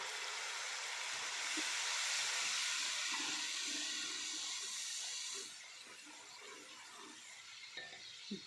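Tomato paste hitting ginger and garlic frying in a pan for dhaba-style chana dal palak, making a soft hissing sizzle that swells early, then settles to a quieter simmering crackle after a few seconds.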